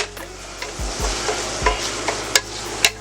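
Onions, bell pepper and freshly added minced garlic sautéing in a pan for a Cajun chicken and andouille pasta, a steady close sizzle with a few soft stirring knocks.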